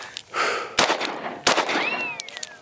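A Sig P365 Fuse pistol fires two loud sharp shots about 0.7 seconds apart at close range, followed by metallic rattling and a ringing tone as the next round fails to feed.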